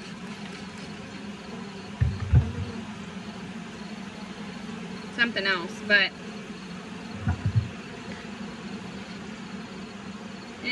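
Honey bees drone in a continuous buzz around an open horizontal hive during an inspection, a steady swarm hum close by with brief rustles and a few spoken words over it.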